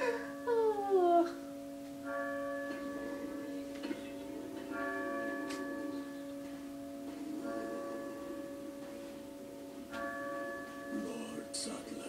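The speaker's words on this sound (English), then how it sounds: "Oh, that only took, 40 minutes to ring the damn bell." A church bell tolls inside the video game Resident Evil 4, its sustained tones rising and repeating over several strikes across a steady, droning game soundtrack.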